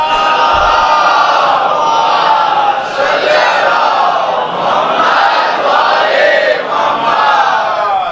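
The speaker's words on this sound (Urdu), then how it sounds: "ایک صلوات پڑھ دے محمد و آل محمد" A large crowd at a Muharram majlis in Kanodar, Gujarat, recites salawat together in one loud, sustained, chanting roar that holds for the whole stretch.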